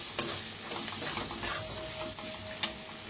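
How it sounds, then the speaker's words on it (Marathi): Brinjal and potato curry with coriander powder roasting in a pan, a soft continuous sizzle broken by light stirring clicks and scrapes of a spoon, close by, with no talk over it. "आता याला छान भाजून घेऊया। मस्त असं भाजायचं बघा।"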